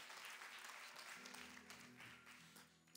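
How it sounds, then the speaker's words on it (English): Applause from a church youth service audience, a continuous spread of hand claps at low level for a few seconds. "Yeah, clap it along,"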